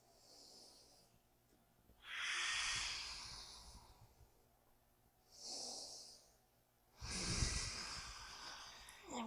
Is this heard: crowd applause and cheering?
no